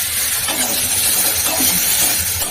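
Tangra fish and eggplant curry in a pan with ground chili and cumin paste sizzles and hisses steadily as water is added, a constant close bubbling crackle with faint clinks and no talking.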